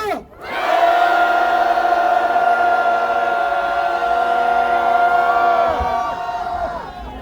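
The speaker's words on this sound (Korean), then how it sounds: "함성 3초간 발사!" A rally crowd outside the Chinese embassy lets out a sustained roaring cheer on cue, loud shouting voices blending into one long held bellow for several seconds before tapering off.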